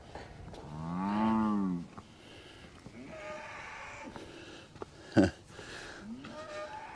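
A Brangus cow on a ranch gives one loud, near moo early on, followed by quieter livestock sounds and a sharp knock against a low background.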